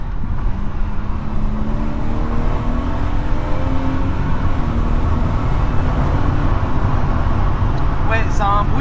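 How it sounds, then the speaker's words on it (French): BMW turbo whooshing and hissing steadily with the window lowered while driving, under continuous engine and road noise throughout, with a brief brighter burst near the end. "T'entends beaucoup le turbo qui souffle"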